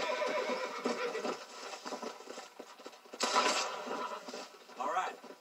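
A horse whinnies in a video game, set against busy game sounds and effects; the rising neigh stands out briefly near the end, while a burst of louder noise arrives midway.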